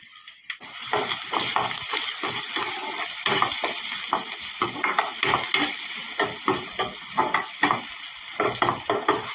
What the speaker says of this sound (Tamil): முதல் நசிச்சு வச்சுக்கிற உள்ளியை போடுங்க.